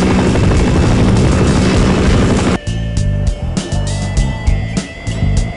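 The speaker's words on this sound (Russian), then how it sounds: "Зачем нам вертолет?" Helicopter in the Half-Life mod Ispitatel 4, a loud continuous rotor and engine roar that cuts off abruptly partway through, leaving quieter game sounds with a low throb.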